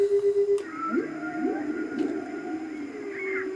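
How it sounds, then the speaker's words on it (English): Whale song plays from a Roffie N600 white noise machine, with soft low moans and rising and falling calls over a steady hiss, fairly quiet. "Obviously whales, whale song."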